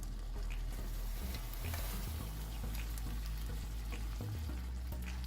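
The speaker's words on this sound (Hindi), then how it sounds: "इसे अच्छी तरह मिक्स कर लेंगे" Noodles tossed with vegetables in a hot pan over a low flame, a steady close sizzle and frying crackle with scraping stir strokes running throughout.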